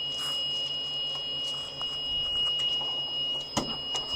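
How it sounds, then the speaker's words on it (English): An emergency exit alarm on a passenger bus gives a steady high-pitched electronic tone that holds throughout, with faint cabin noise and clicks in the background. "when you check the emergency exits, you want the alarms to sound."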